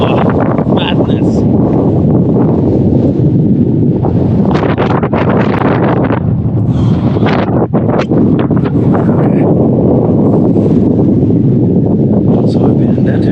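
Strong wind roars across the open hillside of the Mizdakhan Necropolis in Karakalpakstan, buffeting the microphone loudly and continuously, with faint voices briefly audible beneath it.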